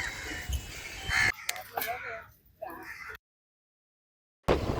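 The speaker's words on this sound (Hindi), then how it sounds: "And there are lot of crows." Crows caw at Eden Beach in Pondicherry. A couple of nearby calls rise over outdoor ambience and talking, then the sound cuts out to silence before resuming.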